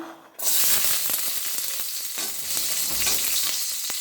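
Garlic, onion and vinegar fry in a pan until golden brown, and a loud, continuous close sizzle with scattered spatters and light stirring starts abruptly after a quiet opening.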